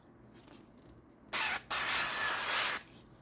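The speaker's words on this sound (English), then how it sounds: "you're going to spray one of your tortillas with some cooking spray" Two bursts of cooking spray hissing onto a tortilla nearby: a short spritz, a brief pause, then a longer, steady spray lasting just over a second.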